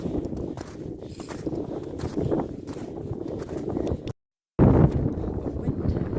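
Strong wind roars across an exposed snowy mountainside during a blizzard on Arenig Fawr, a loud, steady buffeting rush with a brief dropout partway through, then gusting on louder.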